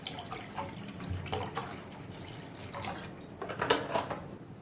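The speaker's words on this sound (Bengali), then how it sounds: "জলটা আমি এখানে দিয়ে দিচ্ছি।" Water is poured from a container into a pan on a kitchen stove for boiling potatoes and eggs, a soft, faint splashing and trickling with scattered drips, close and unaccompanied by talk.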